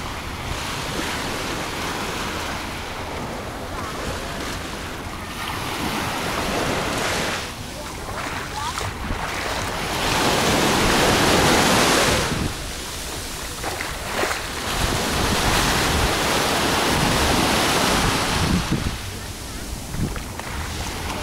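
Surf washes steadily onto a beach in Alanya at sunset, with waves rolling and breaking in continuous broadband rushes and wind buffeting the microphone throughout.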